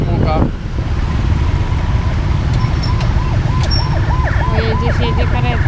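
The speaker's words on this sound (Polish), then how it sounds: "Jedzie karetka." An ambulance siren wails on a road on the outskirts of Saigon, Vietnam, heard from a moving motorcycle under steady wind roar and traffic noise, with the repeating wail growing clearer and louder over the last few seconds.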